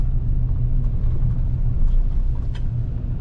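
A 2019 RAM truck engine fitted with a Hypertech throttle optimizer rumbles low and steady near the vehicle in Salt Lake City, a continuous deep drone with slight swells rather than sharp revs.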